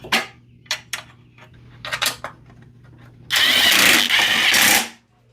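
An Electrolux lawn mower found on the road, its engine first sputtering in a few short bursts, then catching and running loud and steady for over a second before cutting off abruptly, close by with no voices.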